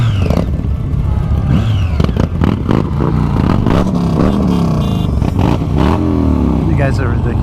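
Motorcycles on a group cabin fever ride, engines revving and rumbling steadily up close with pitch sweeps as they accelerate, under a person talking over the noise.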